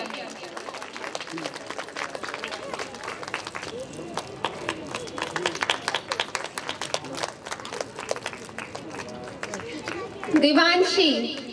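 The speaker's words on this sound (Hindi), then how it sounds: "तालियां बजती रहनी चाहिए।" An audience claps steadily at a children's prize-giving during an evening devotional programme, a continuous patter of many hands with an announcer talking over it and a louder swell near the end.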